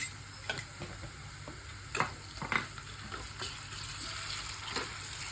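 Ginger paste is stirred into frying onions for a capsicum masala curry: quiet, steady sizzling under a series of distinct spoon scrapes and taps against the pan.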